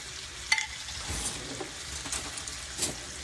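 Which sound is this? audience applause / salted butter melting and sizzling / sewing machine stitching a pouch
salted butter melting and sizzling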